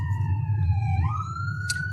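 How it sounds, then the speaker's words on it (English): Ambulance or police car siren coming up from behind on a road, a loud sustained wail that slides down then climbs again over low rumbling traffic noise, with a brief sharp burst near the end. "the deafening sound of the ambulance and or cops coming from behind you"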